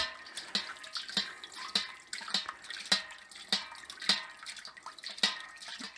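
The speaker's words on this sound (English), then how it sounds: "I'm just splashing hot water on the extract lid just to get the best and most out of it I can" Hot water splashes and drips onto the lid of a Mangrove Jack's Irish Stout beer kit extract can, a quiet, close series of irregular wet spatters and droplets with no talking.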